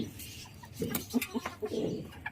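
Hens cluck and murmur in a backyard coop. Several short, nearby clucks come in a loose, uneven run over quiet background noise.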